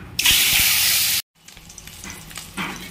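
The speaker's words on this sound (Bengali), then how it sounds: "এরপরে এবারে ডিমগুলো ভেজে নেব।" Eggs frying in oil with salt and turmeric in a wok give a loud, steady broadband sizzle for about a second, then a sudden silence and quieter crackling and stirring with a brief swell near the end.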